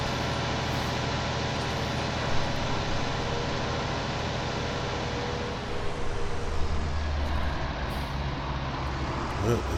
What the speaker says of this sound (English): Hear the plane flying overhead. It's that big army plane that comes by every couple hours.